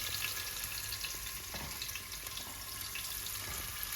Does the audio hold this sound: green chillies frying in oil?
yes